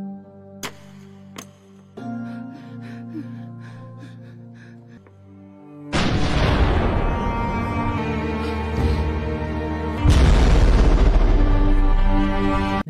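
An explosion from the 2020 war film The Sniper, as a captain blows himself up while surrounded by rebels, bursting in as a loud broadband blast after a quiet tonal passage and followed by a second heavy surge near the end.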